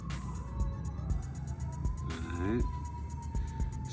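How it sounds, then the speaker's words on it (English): Emergency sirens wailing outside, faint and distant with a rising and falling tone, heard under a nearby voice speaking briefly. "Some sirens."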